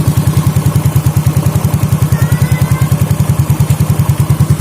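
Yamaha Fino or Mio J scooter engine idling after a repair, a loud, steady, even low thump repeating fast and close, with a faint mechanical clatter on top and no talk.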